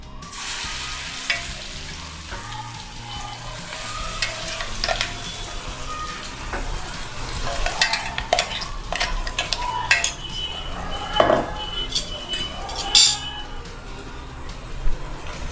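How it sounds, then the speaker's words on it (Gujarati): Vegetables for a fasting-style farali ussal frying in hot oil in a kadai, with a continuous close sizzle broken by scraping spoon strokes and metallic clinks against the pan. "શાક બનાવવા માટે મેં અહીંયા કઢાઈમાં તેલ ગરમ કરી લીધું છે।"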